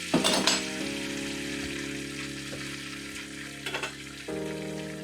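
Eggs fry in a Farberware stainless steel skillet, giving a steady, faint close sizzle with brief scraping stirs and a soft clink or two, and no one speaks.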